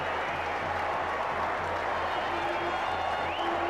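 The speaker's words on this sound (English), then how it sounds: "And there's the applause" A cricket test match stadium crowd applauds steadily at a distance, a broad wash of clapping that carries on without letup.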